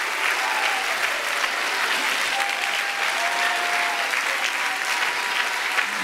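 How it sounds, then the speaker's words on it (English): Church congregation clapping together during worship, a dense, continuous burst of applause from many hands filling the room, steady and fairly loud throughout. "Just everyone, no matter who you are, just visiting, whatever, just clap."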